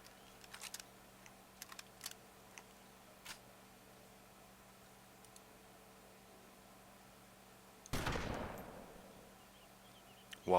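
An IzH 43 shotgun in the video game DayZ fires a single loud blast with a rushing decay, following several seconds of faint, scattered keyboard clicks and a low steady hum.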